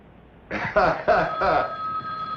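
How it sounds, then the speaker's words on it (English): An old telephone bell rings in short bursts inside a remastered vintage film scene, four quick rings in succession with a faint tone lingering afterward. "Get that phone."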